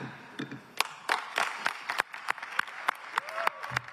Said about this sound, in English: Don't be fooled by the applause